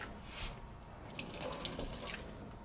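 Tap water runs briefly onto a brush used to clean a plush toy, a soft splashing trickle that grows busier and more spattery toward the middle before easing.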